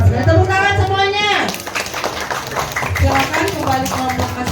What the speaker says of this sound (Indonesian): sangat hebat sekali. Tepuk tangan semuanya.